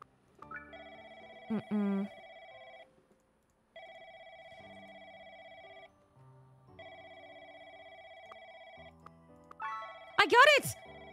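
In the Pets Hotel video game a telephone rings in several long electronic bursts with gaps between them. A brief voice and short game chimes come in around the rings.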